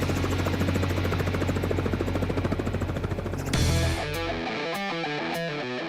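A helicopter used for slinging heavy equipment in the Alaskan bush gives off a loud, steady rotor chop and engine drone that suddenly drops away into a quieter, stuttering tone.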